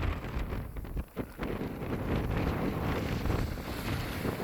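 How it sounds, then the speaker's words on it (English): Strong, cold wind blows across Holly Beach on the Gulf of Mexico, buffeting the microphone with a constant loud rumble, with surf and waves faintly underneath. "Cold and windy, huh?"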